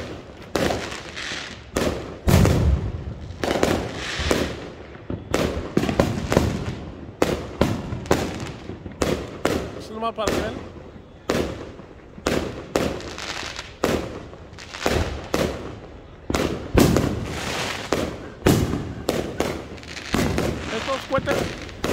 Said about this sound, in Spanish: Estos cohetes, entre más fuerte y más alto sea el tronido, es más caro el cohete.